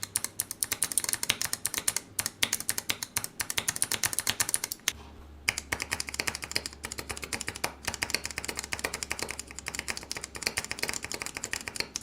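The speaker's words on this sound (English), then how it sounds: "this is what both switches sound like." Rapid continuous typing on a mechanical keyboard fitted with pudding keycaps, dense clacky keystrokes close up, a brief pause midway, no talking.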